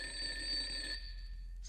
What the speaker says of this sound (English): The phone ringing is a consistent thing in being haunted.